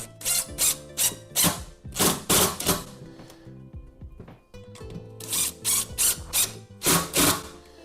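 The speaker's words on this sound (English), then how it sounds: "This is quite a noisy screwdriver drill." A loud cordless screwdriver drill drives screws into a wooden cabinet in repeated short whirring bursts with rattling, grinding pauses between, close by and with no talking.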